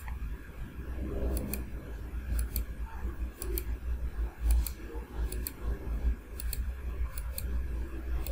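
Computer mouse clicks sound in small clusters of sharp, faint ticks repeated every second or so over a low background hum, close and without speech.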